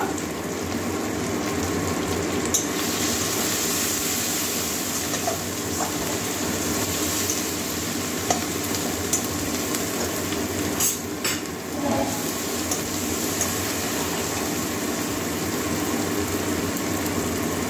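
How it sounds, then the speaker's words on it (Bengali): Turmeric, Kashmiri red chili powder and salt fry in a kadai for an egg curry with peas, giving a steady, even sizzle with scattered scraping clicks of stirring throughout. "ভালো করে মশলাগুলো কষিয়ে নেব"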